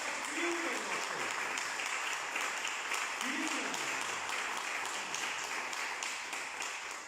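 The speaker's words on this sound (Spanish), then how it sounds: "Denle un aplauso de alabanza al Señor." Church congregation applause, a steady wash of many hands clapping throughout, with a faint voice briefly rising over it at a couple of moments.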